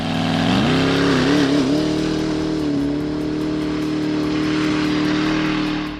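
A Koenigsegg Regera hybrid twin-turbo V8 supercar revs hard, its engine note climbing and wavering through a few quick blips before settling into a loud, sustained high idle.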